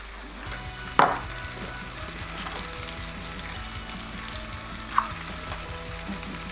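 Boiled rigatoni stirred with garlic butter in a hot pan, a soft steady sizzle with two clear utensil clinks against the pan several seconds apart.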